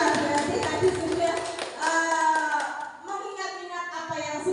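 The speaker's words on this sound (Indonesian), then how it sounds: "Tepuk tangan buat Bu Risma" A small group claps briefly for a participant named Bu Risma during a teacher training session, a light scattered patter mixed with voices speaking and laughing close by.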